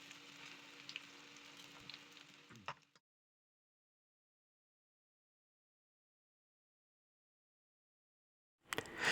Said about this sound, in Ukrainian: Формую кругленькі деруни і обсмажую з двох сторін до золотистої скоринки